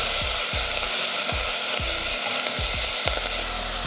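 Drumstick flowers sautéing in a pan while making rasam, a dense close sizzle overlaid by regular scraping knocks of a spatula stirring about twice a second, with no voices.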